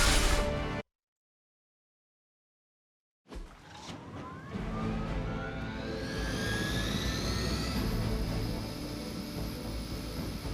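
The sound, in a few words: Hydra helicopter in Marvel's Midnight Suns video game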